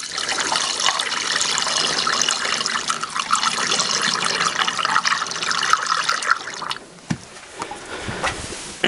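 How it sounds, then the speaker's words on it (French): Thin stream of coolant water poured into the radiator of a Renault Clio 2, a steady close trickle and splash that runs continuously, then stops near the end, leaving a few faint knocks and handling sounds. "au prochain il va falloir que je me prépare à avoir le mince filet d'eau là"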